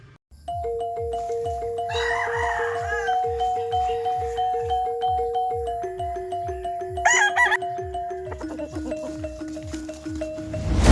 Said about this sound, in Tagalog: So pakita na natin yung mga manok.